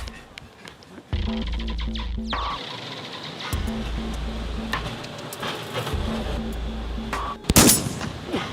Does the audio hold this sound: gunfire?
yes